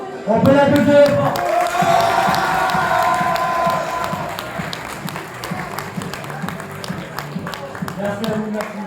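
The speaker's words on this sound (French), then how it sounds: "On peut l'applaudir." An audience at an award ceremony bursts into loud clapping and cheering that slowly thins into scattered claps.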